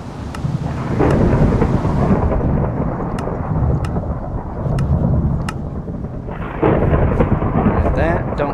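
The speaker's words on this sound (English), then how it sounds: "Oh, it's a thunderstorm." A Minecraft thunderstorm roars steadily with heavy rain hiss and deep rolling thunder swells, loud and continuous, with a few faint clicks on top.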